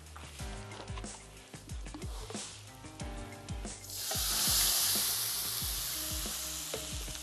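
Shrimp or seafood for tom yum soup frying with black pepper on high flame, a steady sizzle with scraping stirs that swells louder and hissier midway and stays bright to the end.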